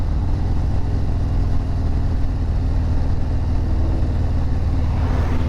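A motorcycle with a Fuel Moto 124 big bore kit and S&S 475 cam idling loudly and close, a steady heavy low throb with strong vibration that holds even throughout.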